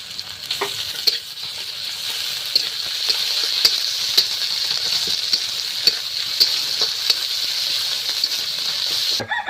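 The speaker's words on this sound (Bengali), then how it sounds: "এই যে একটু আদা রসুন বাটাটাই দিয়ে দিচ্ছি।" Ginger-garlic paste fries in a pan with a steady, close sizzle, broken by frequent small clicks and scrapes of stirring throughout.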